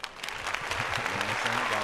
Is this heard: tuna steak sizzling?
no